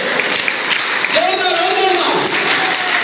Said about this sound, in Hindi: जोरदार ताली बजा के दिखाइए